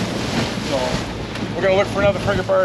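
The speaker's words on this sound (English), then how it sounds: "it's quiet out here, except for the wind and the waves." Steady wind buffeting a microphone with a broad wash of ocean waves around a boat off Key Largo, continuous and fairly loud, while someone talks over it.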